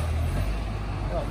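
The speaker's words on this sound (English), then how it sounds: "See? Bus." A bus idles close by with a low engine rumble, heard on a street near Wembley Police Station, while people talk over it.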